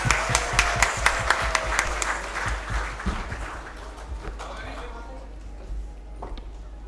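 An audience at a concluding ceremony applauds, with sharp, dense clapping at first that gradually thins and fades over several seconds.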